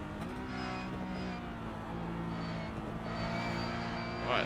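Porsche Cup race car engine in the iRacing simulator at Sebring, a steady droning engine note with harmonic layers holding through a corner, continuous and fairly close, with no talk over it.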